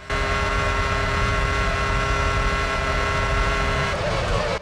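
Restricted V10 Formula 1 car in the racing game F1 2006, a loud, constant high-revving engine scream held steadily at close range, shifting slightly near the end.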